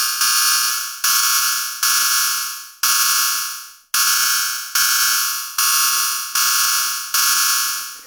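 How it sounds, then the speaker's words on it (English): Synthesized hi-hat cymbal through a comb filter, a bright, metallic, ringing hit repeated about ten times at a steady pace, each strike decaying smoothly, loud and isolated with no voices. "we can kind of get these interesting digital, weirdly clean but also weirdly dirty cymbal sounds"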